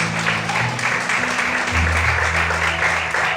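Steady, dense applause from a large church congregation, continuous and fairly loud throughout, with a low hum beneath it.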